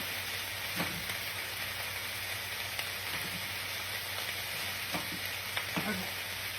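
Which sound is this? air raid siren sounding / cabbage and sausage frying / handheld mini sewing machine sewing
cabbage and sausage frying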